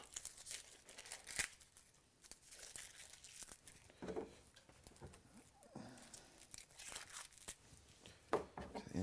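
Dry onion skin being peeled from the bulb in a kitchen before chopping, giving soft crackling, tearing and crinkling sounds in irregular bursts, close up and fairly quiet, with no talking.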